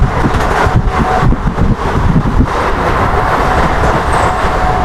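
Near-empty local train running at speed late at night between Durgapur and Bardhaman, a steady loud rumble with rhythmic wheel clatter throughout, no talking.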